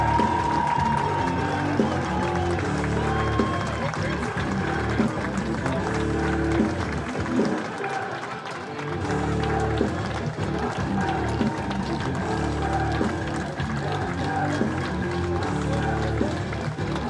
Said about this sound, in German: Applaus fürs Heimteam